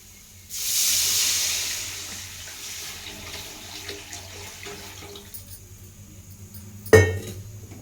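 Tamarind and tomato water is poured into a hot rasam pot, setting off a loud, close hissing rush that slowly fades into a soft simmer, then a single sharp clank near the end.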